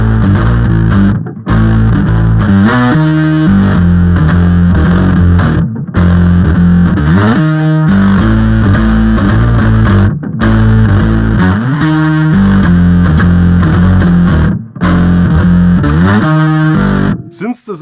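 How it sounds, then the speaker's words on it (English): Bass guitar through a Darkglass plugin with octaver and fuzz combined into a thick, synth-like distorted tone, playing a loud continuous riff of sustained notes with short gaps between phrases. "Here's one last sound, the octaver combined with the fuzz, which is an attempt to create something synth-like"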